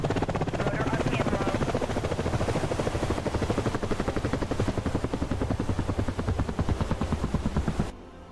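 Helicopter rotor in a combat flight game, a loud steady rhythmic chopping throb that runs continuously, then drops off sharply near the end.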